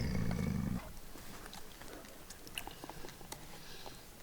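Patou livestock guardian dogs on a mountain hike in the Mercantour give a low, rough growl up close that breaks off after about a second, leaving faint rustling and quiet ambient noise outdoors.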